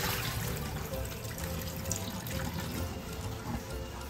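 Cooled water from boiling rice dumpling parcels poured out into a basin, a steady close splashing gush with a running tap-like rush, continuous and fairly loud, without speech.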